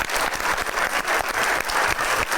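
A studio audience on a TV game show breaks into dense, steady applause, with many hands clapping close together and no pause.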